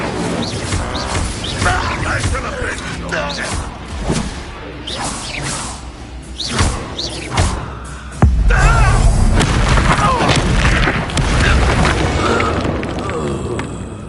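A fire spell erupts in the Hogwarts Legacy video game amid a chaotic battle, with repeated whooshes and deep booms over a dense, loud mix of combat effects, a heavy impact landing around the middle and rumbling on afterward.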